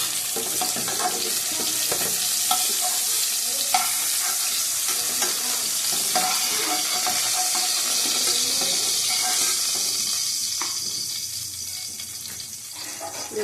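Bay leaf, garam masala and cumin seeds tempering in hot oil, a steady close sizzle and crackle with stirring and occasional clinks from the pan, fading slightly near the end.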